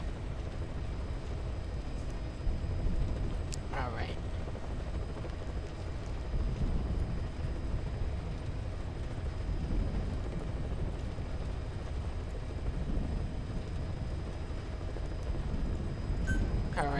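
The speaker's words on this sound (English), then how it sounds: "I'm inside of a helicopter. Is the helicopter loud?" Helicopter interior in Metal Gear Solid V: Ground Zeroes, a constant low rotor and engine drone filling the cabin without letup, with a short spoken word.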